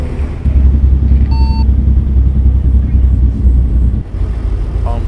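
A TrucksBook speed warning alarm in American Truck Simulator, set off at 80 miles an hour, gives a short steady electronic tone once, heard briefly over a loud low truck engine rumble.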